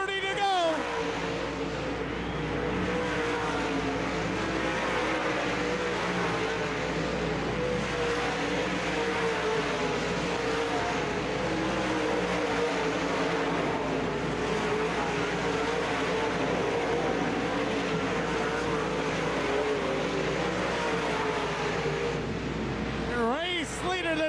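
Dirt track race cars at a 1996 UMP Summer Nationals race at Davenport Speedway roar continuously in a distant, washed-out drone under a loud announcer calling the race.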